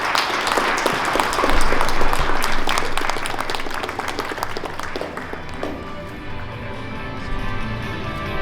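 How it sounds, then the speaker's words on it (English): Audience applause at an awarding ceremony honoring a second-place team from Innopolis, a dense burst of clapping that swells early, then thins and fades beneath a lingering room tone. "A round of applause to Звездочка team from Innopolis."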